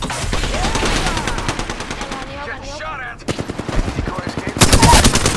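Automatic weapon fire in the battle royale game Apex Legends on the Kings Canyon map, loud rapid bursts nearly throughout, briefly easing before heavier, closer volleys return.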